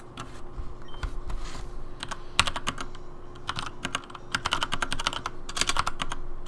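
Fingers tap on a computer keyboard in quick irregular clusters of close, crisp keystrokes, pausing between bursts, with faint background hum.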